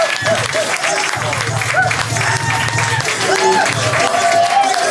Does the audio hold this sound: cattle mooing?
no